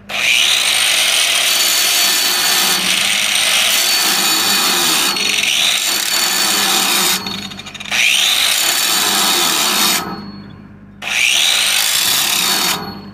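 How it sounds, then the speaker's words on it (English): An angle grinder with a large disc grinds down a weld tack on pipe for a 6G downhill 6010/7010 weld, a loud continuous abrasive whine in long passes broken by brief dips as the disc lifts and spins back up. "I'm going to go ahead and grind my tack to start with."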